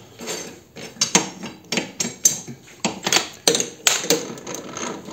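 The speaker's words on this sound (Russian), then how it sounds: "Берем кусок какой-нибудь арматуры и нарезаем километр резьбы." A metal lathe cutting a thread on a length of steel rebar, giving a run of sharp, rhythmic metallic clacks and scraping bursts about twice a second, close and fairly loud with no voices.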